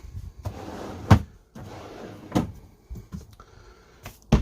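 Drawers in the kitchen of a 2022 Swift Elite 880 caravan are pulled out and pushed shut, giving a few close, sharp knocks and slides with quiet gaps between them.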